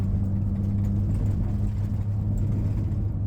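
A Mini Cooper drives along, its engine and road noise forming a steady, low rumbling hum from inside the car, constant in level with no talking.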